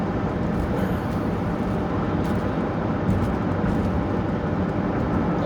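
Steady broadband road rumble and engine drone from a car cruising Toronto city streets at night, continuous and fairly loud with no pauses or talk.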